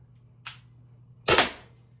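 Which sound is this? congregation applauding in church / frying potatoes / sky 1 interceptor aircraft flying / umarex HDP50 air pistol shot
umarex HDP50 air pistol shot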